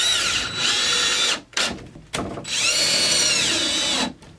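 A power drill whines loudly in high-pitched bursts, revving up and down with two brief pauses between runs.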